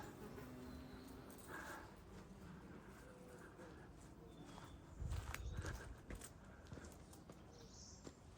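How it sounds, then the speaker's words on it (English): Bumblebees, hoverflies and wasps buzz faintly around flowering plants in an outdoor garden in North East Derbyshire, with a soft, steady drone and footsteps brushing nearby. "Big bumblebee there, hoverflies there. Look at them all. Wasps as well, absolutely covered in it."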